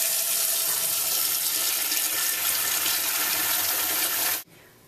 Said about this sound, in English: I'm going to fill the pot up with water, with cold water, until the water is about 2 inches over the top of the egg